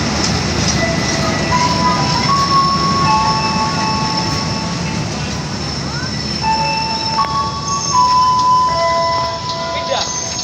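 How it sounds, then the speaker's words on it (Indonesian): The Tawang Alun passenger train pulls into track 2 at Kalisetail station in Indonesia, a loud nearby rumble of rolling cars laced with long, high wheel and brake squeals, while a voice speaks over it. "saat ini sudah terpantau masuk kereta api Tawang Alun di jalur 2"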